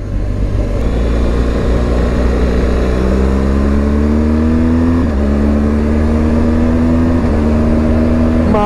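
A BMW R1200 GS Rallye motorcycle engine revving on a test ride, a loud, close, continuous drone that climbs steadily in pitch through the gears, with brief dips at each shift.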